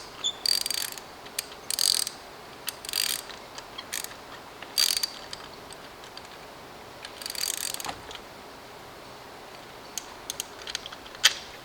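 Ratchet tightening a spark plug on a Volkswagen Golf R, heard as short bursts of quick metallic clicking separated by pauses, close and fairly quiet, with no talking.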